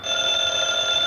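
An old-fashioned telephone rings in a steady, continuous electric trill, loud and close, filling the whole moment with no voices over it.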